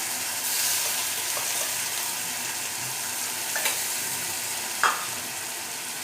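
Onion, chilli, ginger and garlic paste fry in a pan with a steady, even hiss, broken by a few brief spoon scrapes and taps.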